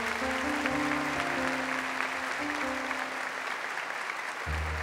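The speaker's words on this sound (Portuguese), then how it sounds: "Pode aplaudir mais forte." Church congregation at Mass applauding new priests, a steady wash of clapping over sustained organ-like tones, moderately quiet and even, with the tones briefly cutting out near the end.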